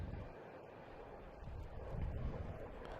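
Gusty wind buffets an outdoor microphone at Boston Logan Airport, a steady low roar that swells louder toward the end, with no speech.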